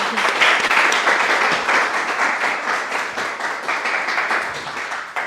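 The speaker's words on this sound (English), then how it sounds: "Another round of applause, please." Sustained audience applause at a book talk on executing innovation, a dense wash of many hands clapping steadily at fairly close range for several seconds with no voices over it.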